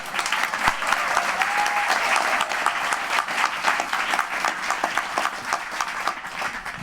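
A room full of people claps for a woman named Vicki at an evening gathering, dense and steady applause lasting several seconds with a few voices and whoops underneath.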